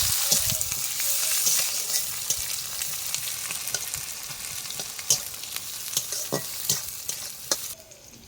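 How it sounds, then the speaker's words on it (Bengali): Chopped onions fry in a pan as a close, steady sizzle broken by sharp clicks and scrapes of stirring that grow more frequent toward the end, with no talk. "পেঁয়াজটা একটু লাল লাল করে ভেজে নেবো হালকা করে"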